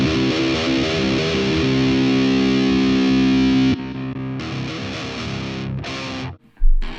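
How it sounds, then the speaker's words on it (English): Distorted electric guitar through a Boss Katana-100 MK2 combo amp on a preset with an octaver, thick and loud, a sustained chord and then shorter choppy stabs before stopping abruptly. "It has an octaver in it."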